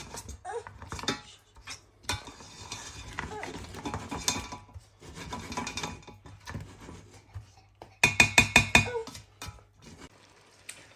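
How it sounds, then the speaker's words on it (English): Garlic and ginger paste stirred into a lamb spinach curry in a pot, with intermittent scraping and clinking of a utensil and a quick burst of rapid metallic taps near the end. "So we're just gonna give it a quick mix so it hits."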